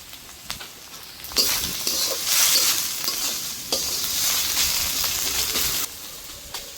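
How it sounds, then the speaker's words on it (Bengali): Spice paste for country chicken curry, with salt added, sizzles and fries in a pan while a spoon stirs it. Scraping strokes come in bursts over a steady, close hiss. "মশলাটা সুন্দর করে কষানো হয়েছে"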